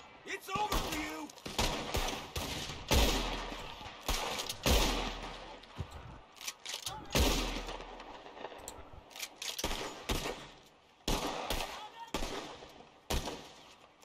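Gunfire in Red Dead Redemption 2 during a train robbery: repeated sharp shots and bursts in irregular clusters throughout, loud and close, with occasional voices between.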